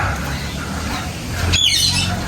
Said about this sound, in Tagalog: Pwede ka magpakain ng mga ibon. Maamo mga ibon.